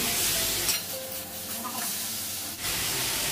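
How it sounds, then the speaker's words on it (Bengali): Boiled potatoes fry in a pan with a constant close sizzle and hiss, a few soft stirring scrapes breaking through the steady crackle. "আলুগুলো বেশি করে সিদ্ধ হয়ে গেছে, আলুটা একটু ভেজে নেব,"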